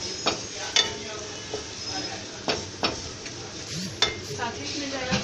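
Flour being stirred into lightly pinkened fried onions in a pan for a chicken filling, with a steady sizzle broken by several sharp scraping strokes of a spoon against the pan.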